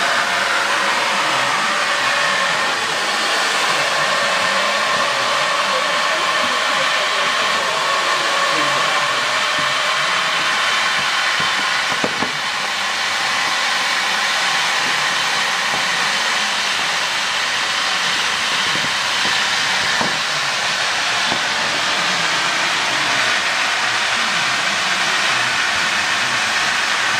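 Compressed gas rushes steadily from the inflation valve of a Viking liferaft during an inspection, a loud, continuous broadband hiss lasting throughout with no pauses or speech.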